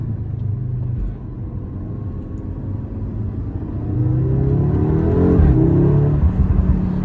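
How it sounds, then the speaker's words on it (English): A 2022 Audi S3 Sportback on the move, with a low engine and exhaust rumble that eases off briefly and then swells again as the car accelerates, steady and close throughout. "just listen to that exhaust"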